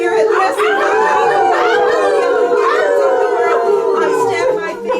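A performer at a poetry reading imitates a dog with loud, sustained, wavering vocal howls, several rising and falling calls close to the microphone.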